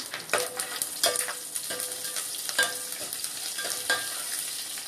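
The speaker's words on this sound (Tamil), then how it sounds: "கடுகு நல்லா பொரிஞ்சோங்க." Mustard seeds crackle and splutter in hot oil with cumin, dried chillies and curry leaves, a dense continuous sizzle broken by sharp pops and the scrape of stirring, close and fairly loud, with no voices.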